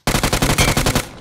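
UMP submachine gun firing in a mobile battle-royale shooter game: a loud, close, continuous burst of about ten rapid shots over roughly one second, with no talking.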